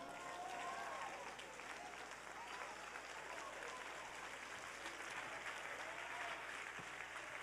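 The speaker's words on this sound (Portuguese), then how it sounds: "Fique em pé e aplauda ao Senhor." Church congregation standing and clapping during a worship service, a continuous, even wash of applause with a hum underneath, steady throughout and fairly distant.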